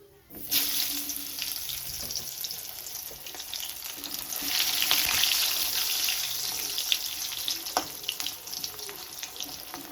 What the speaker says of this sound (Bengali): আলুটাকে একটু ভালো করে ফ্রাই করে নিই